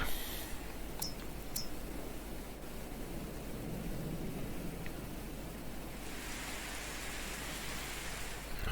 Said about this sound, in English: Lovely rain to water our crops.